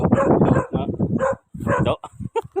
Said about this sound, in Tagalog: Makita nyo ba yung aso?